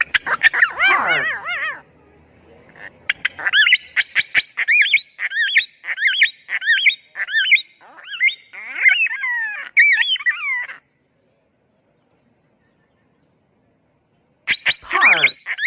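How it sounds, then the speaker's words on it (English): A parrot gives a long run of loud, close, rhythmic squawking calls, each burst sharp and repeated at an even pace, then goes quiet for several seconds before one more cluster of harsh calls at the end. "Parrot."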